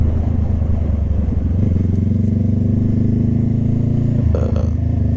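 Motorcycle engine running steadily during a ride, a loud continuous drone with harmonic bands that shift in pitch around midway and dip near the end as the bike slows.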